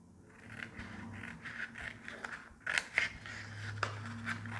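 Scissors cut through a paper sewing pattern in a series of soft, close snips and crunchy slicing strokes, with a few sharper clicks of the blades, and no talking.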